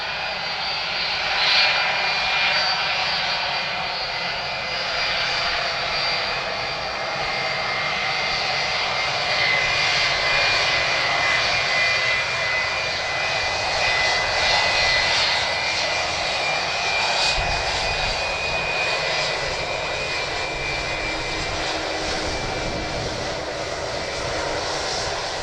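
A Cargojet airliner's engines roar at Edmonton International Airport, a loud, sustained broadband rumble with a whining tone that holds steady throughout.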